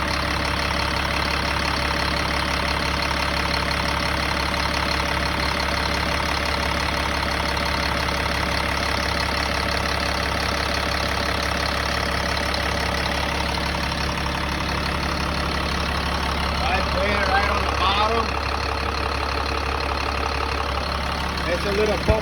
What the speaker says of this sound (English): As you can hear, this is how the engine sounds.